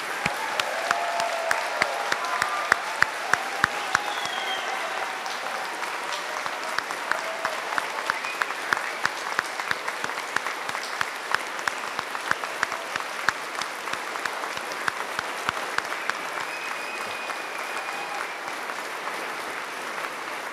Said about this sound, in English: please join me in a rousing round of applause for our highest honor honorees